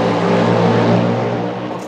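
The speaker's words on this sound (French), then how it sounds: "ce qui est marquant avec cette voiture, c'est surtout son bruit de ce V8 atmosphérique hybride" A Cadillac hybrid naturally aspirated V8 race car at Le Mans gives a sustained, loud, close engine roar with a strong harmonic tone. No one speaks.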